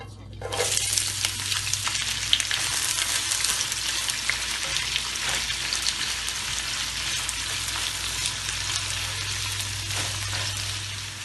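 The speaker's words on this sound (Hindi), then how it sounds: "तेल डालेंगे, प्याज डालेंगे" Onions hitting half a cup of hot oil for a yogurt chicken curry, sizzling loudly and steadily up close for several seconds with a low hum underneath and no speech.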